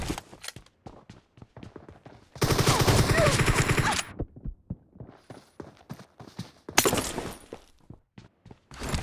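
Gunfire in a PUBG 1v1 AR match: scattered single shots and clicks, broken by two dense bursts of rapid automatic fire, loud and close, with a brief voice under the action.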